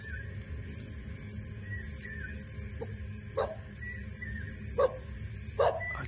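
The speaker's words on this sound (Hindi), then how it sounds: "कुत्ते भी भौंक रहे हैं, कुत्ते भौंक रहे" Dogs barking outdoors at night, a few distant, scattered barks and yips rising over a low steady background with rhythmic insect-like chirping high above.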